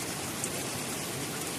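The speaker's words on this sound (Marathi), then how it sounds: "तर आज असं हे पावसाचं वातावरण असं छान असं मस्त." Steady rain falls outdoors among mango trees, a dense, even hiss of drops on surfaces at moderate level, with no voices.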